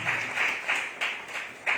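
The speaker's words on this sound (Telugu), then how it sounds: "గట్టిగా చప్పట్లు తట్టి ప్రభునామం మహిమపరచండి" A church congregation claps loudly in praise, a dense wash of hands striking together in rough rhythmic pulses that swell every quarter second or so, heard from within the hall.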